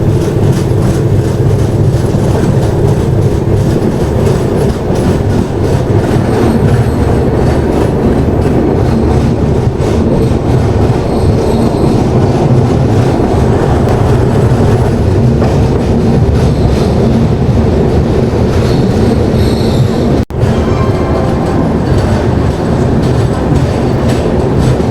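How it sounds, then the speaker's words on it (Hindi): The Mewar SF Express rumbles into Sawai Madhopur Junction station, a loud continuous roar of wheels and carriages with clickety-clack and faint squeals, heard close from on board. "इसी के साथ अराइवल हो रहा है सवाई माधोपुर रेलवे स्टेशन पर"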